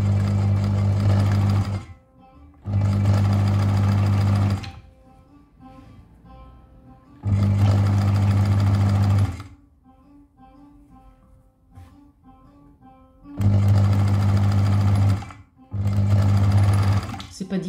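A sewing machine stitches an invisible zipper into a dress, running in several loud, steady bursts of a few seconds each, with quieter pauses in between.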